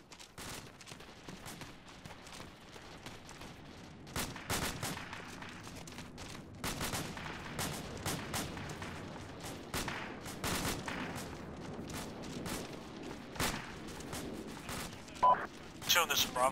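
Distant AK rifle fire in the Arma military game, scattered bursts and single cracks popping over a steady background, with muffled talk running alongside.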